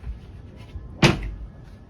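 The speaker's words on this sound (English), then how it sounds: "Lift this up, and the hinges are working perfect." Under-bed storage lid in a Little Guy Silver Shadow or nuCamp camper trailer swinging on its hinges, a single soft knock-like thump near the middle, otherwise a quiet room.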